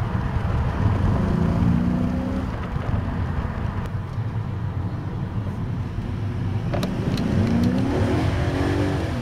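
BMW E39 sedan driven hard, its engine accelerating with a loud, steady close-up roar over continuous road and wind noise, swelling briefly near the end.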